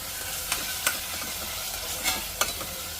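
Spices with turmeric stirred and roasting in a pan, a steady close sizzle broken by a few sharp scrapes of the spoon against the pan.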